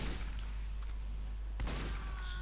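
A headshot in Team Fortress 2, heard as a few sharp gunfire cracks, one near the start and a stronger one after a second and a half, over a constant low game hum.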